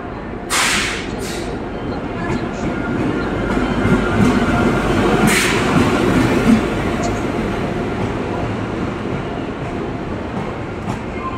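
A train at Kanpur Anwarganj railway station gives a continuous close rumble and clatter of rail cars, with a few sharp hissing or squealing bursts near the start and middle.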